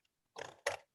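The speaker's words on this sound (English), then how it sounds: "So I cut with the scissors in the middle" Scissors snip through paper during a bookbinding session, two short crisp cuts close to the microphone with silence between them.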